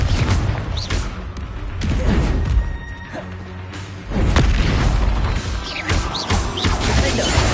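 Spell blasts in the Hogwarts Legacy video game, including the Confringo fire blast, go off as repeated loud booms and crashing impacts, layered over a continuous rumble of combat with no speech.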